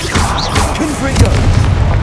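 Confringo fire spell explosions in the video game Hogwarts Legacy, with a run of booming fiery blasts and crackling bursts over a dense, busy game soundscape.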